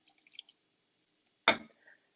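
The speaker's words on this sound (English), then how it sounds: "I'm just going to give it a big old splash of brandy" A single short splash of brandy poured into a sangria mix, sudden and fairly close, with faint clinks and drips before it and a small trickle after.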